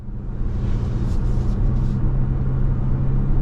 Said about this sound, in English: we're heading down the road in this 24 RAV4 Prime XSE